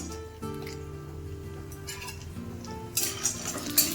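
Chopped almonds and cashews go into hot ghee in a pan while making Bengali payesh, giving a steady sizzle with a utensil stirring and clinking against the pan toward the end, close up and without speech.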